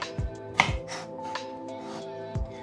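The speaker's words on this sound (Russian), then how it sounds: "И нарезаю салат примерно так." A knife chops salad lettuce on a cutting board in a kitchen, giving a few separate close knocks against the board with quiet handling sounds in between.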